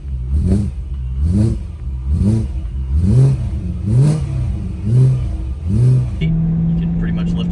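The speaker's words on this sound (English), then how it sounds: "titanium exhausts have a little bit different twang to them" A catless car engine with a titanium exhaust revs repeatedly in steady rhythmic pulses, each rise and fall carrying a raspy, metallic exhaust tone, close and loud, ending in a settled idle.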